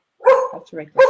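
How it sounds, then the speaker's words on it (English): A pet dog barks indoors, two close, loud barks with a softer yip between them, mixed with a person talking. "That's my dog."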